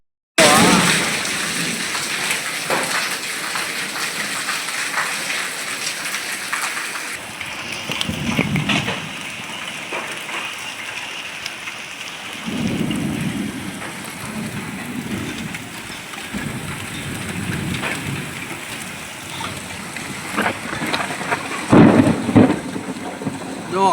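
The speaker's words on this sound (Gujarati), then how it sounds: "અત્યારે બાકા જીકી વાળો વરસાદ ચાલુ થઈ ગયો હોય." Heavy rain with hail and thunder strikes a village in Saila, Gujarat, during a storm. Constant loud downpour is broken by repeated deep thunder rumbles that swell and fade, with a sharp burst near the end.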